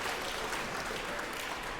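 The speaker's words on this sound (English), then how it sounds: "you can hear the crowd celebrate as Emily takes the first game of this match" Spectators at a college table tennis team semifinal cheer and applaud after a game ends, a dense, steady wash of clapping and crowd noise heard from a distance.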